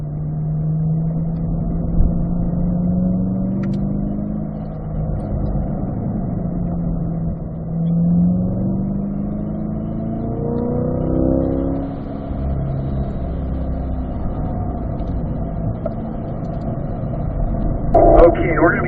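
A 2020 Corvette Z51 engine hums and changes pitch as it downshifts to third on a race track, with rising and falling tones under steady mechanical rumble; someone talks over it.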